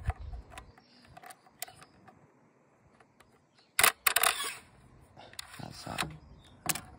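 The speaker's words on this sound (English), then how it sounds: "we use the rod to force it into the mag" Plastic BB pellets forced by a speed loader rod into a BB gun magazine give sharp clicks and short rattling bursts, loudest in a cluster midway through and again near the end, close and alone.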